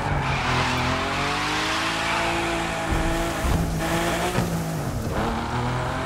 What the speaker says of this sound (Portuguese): fazer drift com o carro aqui no jogo